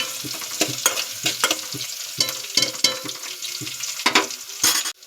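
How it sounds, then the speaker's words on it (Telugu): Onions frying in a pan for a small-fish curry, a loud close sizzle punctuated by rhythmic scraping stirs every half second or so, ending abruptly, with no talking. "ఎర్రగడ్డలు అయితే బాగా దోరగా వేగనివ్వాలి."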